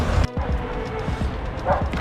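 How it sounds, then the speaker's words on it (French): Stray dogs bark in a street in Nessebar, several short sharp barks scattered through the clip amid outdoor background noise. "il y a beaucoup de chiens errants"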